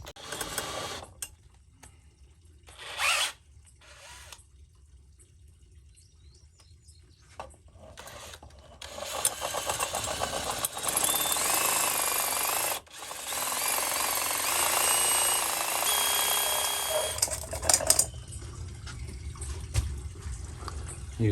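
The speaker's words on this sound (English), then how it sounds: "The screw ended up being rusted, so much so that he's now having to drill it out." A power drill grinds into a rusted screw on a front porch light fitting. The drilling is a steady, fairly loud whine lasting several seconds, with shorter bursts before it and scraping and handling noises around it.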